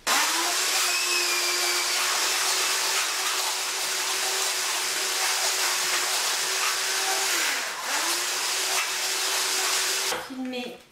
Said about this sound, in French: Je vais maintenant mixer un petit peu pour être sûr qu'il ne reste pas de morceaux de chocolat fondu